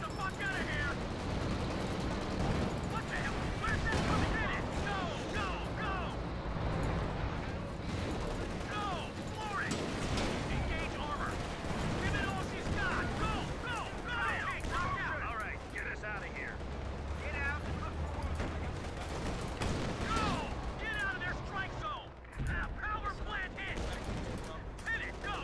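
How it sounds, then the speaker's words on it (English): A dense, continuous battlefield din from a Company of Heroes 2 4v4 match, with artillery fire and gunfire rumbling throughout, and a voice talking over the noise. "I threw some artillery on this arty"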